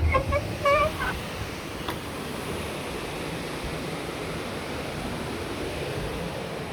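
Constant broadband roar of water pouring over the waterfall at the Spencer Feedmill, heard close and steady, with a few brief bird calls at the start.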